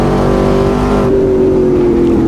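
Ultima GTR engine revving loud and close in a racing simulator on track at Silverstone or Montreal, a sustained droning tone that dips slightly partway through, with no talk over it.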